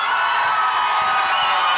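A concert crowd cheers and applauds at a show, a steady loud wash of clapping and shouting with no break.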